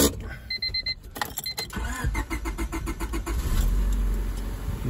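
A Honda Civic with a D16 engine starts up after a head gasket job, the starter cranking briefly before the motor catches and settles into a steady, fairly quiet idle, recorded close.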